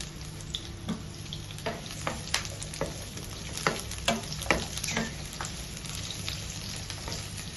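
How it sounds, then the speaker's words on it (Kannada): Chopped onion and green chilli fry in about two tablespoons of oil in a pan on a gas stove: a continuous close sizzle broken by repeated light scrapes and taps of stirring. "2 ಟೇಬಲ್ ಸ್ಪೂನ್ ಅಷ್ಟು ಎಣ್ಣೆ ಈರುಳ್ಳಿ ಹಾಕ್ತಿದ್ದೇನೆ. ಹಾಗೆ ಗ್ರೀನ್ ಚಿಲ್ಲಿ,"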